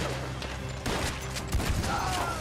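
Shotgun blasts in Red Dead Redemption 2: two heavy booming shots roughly a second apart, loud and close, over a busy layer of background game noise and scattered distant gunfire.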